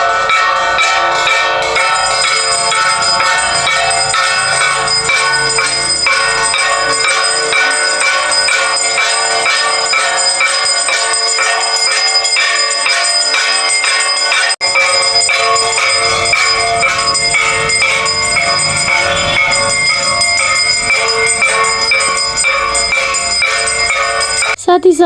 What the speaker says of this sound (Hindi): हम घंटी बजैली आरती के